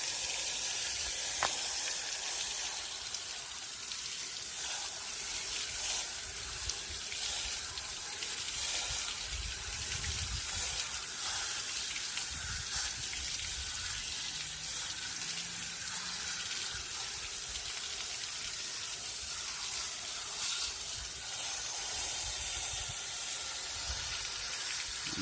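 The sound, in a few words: garden hose spraying water on a Can-Am Maverick radiator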